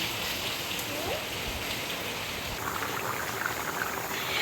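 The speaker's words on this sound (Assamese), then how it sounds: "এই বা পানী চুবলৈ খুজিছে এই বৰষুণৰ পানীখিনি।" Rainwater falls and pours outdoors, a steady, close hiss of drops and trickling with some splashing, continuing throughout without a break, and no one speaks.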